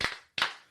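Two sharp, separate hand claps from an audience, spaced about a third of a second apart, crisp and close, each with a short decay into silence.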